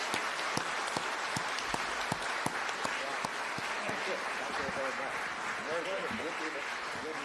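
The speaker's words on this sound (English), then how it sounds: "Please join me to give a very big applause to our two prominent scholars." Sustained audience applause for two scholars at the close of a Tsinghua–University of Chicago debate, a dense steady roar of many hands clapping with brief voices mixed in, fairly even in loudness throughout.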